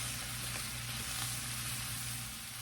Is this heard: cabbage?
yes